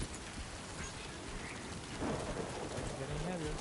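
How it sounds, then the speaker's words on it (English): Timefall rain and thunder in the video game Death Stranding 2, steady rainfall hissing throughout with a low rumble of thunder swelling partway through, fairly loud and without talk. "Timefall stuff."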